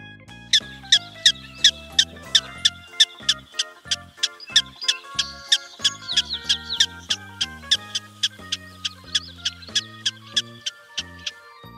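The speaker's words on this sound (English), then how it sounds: "Common squirrel monkey." Common squirrel monkey gives a rapid series of sharp, high chirps and squeaks in a steady rhythm, close and clear over soft music.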